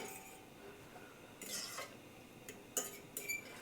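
Garlic and herbs are stirred in a pan, a spoon giving soft scrapes and a few light clinks against the metal, faint and close in a quiet kitchen.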